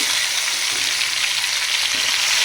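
Chopped tomatoes hitting a pan of chicken gravy give a loud, steady sizzle of frying, with a bright hiss that holds evenly throughout and no talk.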